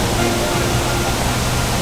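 Broadband rushing roar of the Vattayi waterfall, up close and loud, a steady unbroken wash of water with no voices over it.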